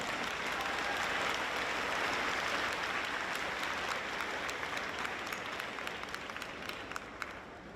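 Sustained applause from a large crowd at a school commencement ceremony, dense steady clapping that fades slightly toward the end, with no voices.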